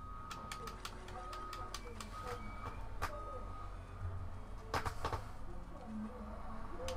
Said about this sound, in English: I'm just hearing constant beeping in the background.